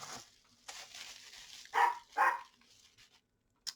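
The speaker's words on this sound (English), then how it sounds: "Sorry for my dog barking." A pet dog in a home barks twice in quick succession, fairly close and loud, with softer whimpering sounds before and a brief yip at the end, no talking.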